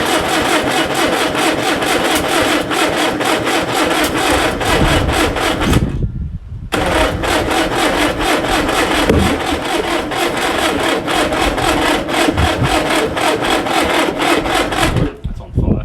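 A 1950 MG engine cranking over and over without catching, the starter churning loud and steady with a brief pause around the middle before the cranking resumes, all close up.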